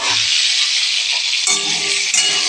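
Boiled potatoes go into a hot pan where paneer has just been fried, raising a loud, steady sizzle close by that flares briefly as they are stirred.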